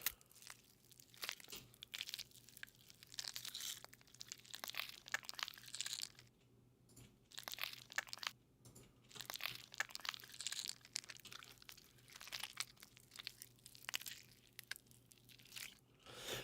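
A wet, crunchy gore sound effect is being worked on, with repeated squelching crunches and tearing textures in dense irregular bursts broken by short pauses, all fairly quiet and with no talk.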